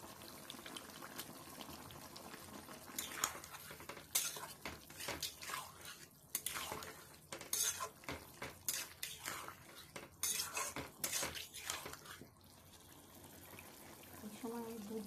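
Brinjal and bitter gourd go into a pot of nearly cooked vegetables for dudh shukto, with a close, irregular run of clanks, scrapes and wet splashes of utensils against the pot.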